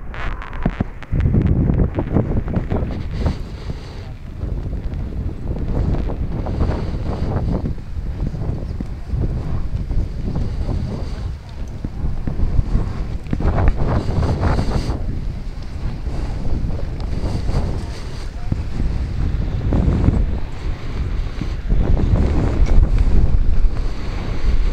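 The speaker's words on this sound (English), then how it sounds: "Really strong gust of wind now." Strong gusts of wind buffet an open-air field at a glider competition in Dupnitsa, Bulgaria, roaring loud and continuous with rumbling surges throughout.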